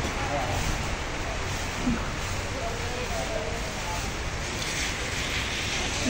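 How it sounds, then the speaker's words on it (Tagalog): Wind rushes steadily and loudly across the microphone in gusts, with broad roaring noise and slight surges throughout. "Pabugso-bugso yung hangin."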